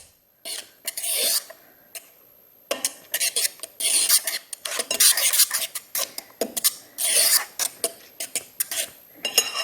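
Banana nut bread batter being mixed with oil in a bowl, a utensil scraping and clinking against the sides in repeated bursts of close, fairly loud strokes with short pauses between them.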